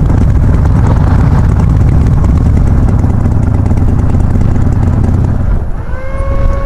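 Motorcycle engines run loud and steady beside the road with wind noise, then cut out near the end as the bikes are shut off, leaving quieter fading tones.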